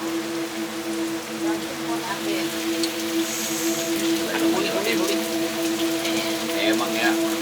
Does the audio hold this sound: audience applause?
no